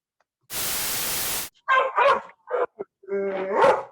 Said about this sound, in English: when you start recording, the dog starts barking